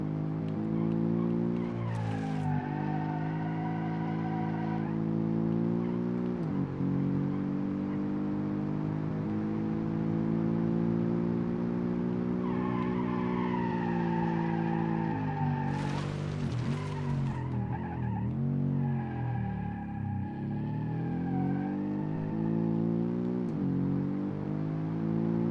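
A car accelerating hard in the BeamNG driving simulator, its engine note climbing in long rising pitches through repeated gear shifts, loud and continuous with brief tire squeals over about twenty-five seconds.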